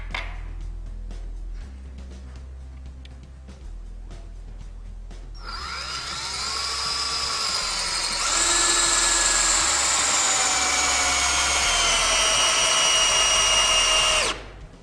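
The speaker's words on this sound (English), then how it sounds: "I'm going to run this 14-inch screw into this block of treated wood here" A power driver whines steadily and strains as it drives a 14-inch screw into a block of treated wood without pre-drilling, the motor pitch dropping under load, then cuts off abruptly.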